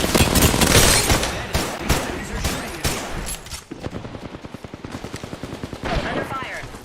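Rapid bursts of video game gunfire in Valorant or Overwatch, a dense stream of sharp automatic shots that loosens into a steady rattling rhythm, loud and close, with a player's voice talking over parts of it.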